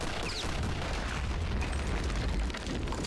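A Panzerfaust rocket launcher blast in Call of Duty, a dense, sustained low rumble and roar filling the whole three seconds at steady loudness, with no voices over it.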